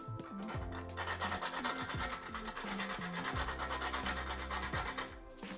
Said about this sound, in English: I will just grate a nutmeg